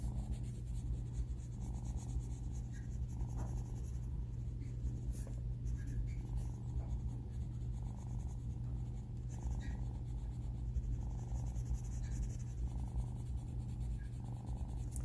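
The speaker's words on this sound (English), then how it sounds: "just kind of shading around the pocket there, down his back, along the trim." A pencil shading a drawing, a faint, soft scratching in short repeated strokes over a low steady hum, with no talk.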